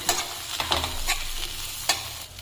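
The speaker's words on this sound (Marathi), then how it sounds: "आणि 7-8 बॅडगी मिरच्या टाकू, ते परतून घेऊ" Byadgi and red chillies frying in oil in a pan, a soft continuous sizzle with a few spaced scraping stirs of a spoon against the metal, close by and with no talking.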